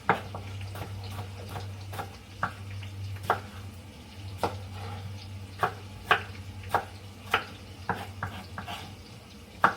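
Goat meat being chopped with a knife for a mutton curry, irregular sharp thwacks against a board over a steady low hum, fairly close with no talking.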